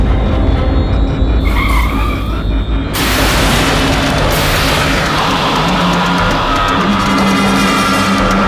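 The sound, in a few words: car braking to a stop with skidding tyres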